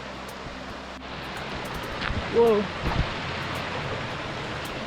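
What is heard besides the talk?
waterfalls rushing among trees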